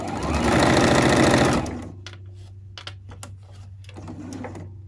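Sewing machine stitching fabric for a hair scrunchie, a loud rapid mechanical whir for about a second and a half, then stopping, followed by faint ticks and handling clicks with a low background hum.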